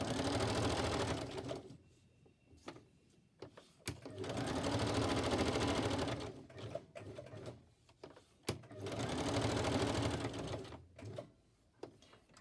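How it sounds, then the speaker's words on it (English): A sewing machine stitching around an image on paper ephemera for a journal, running in several steady whirring bursts separated by pauses with small clicks, close by and without talk. "I'll just stitch around that image."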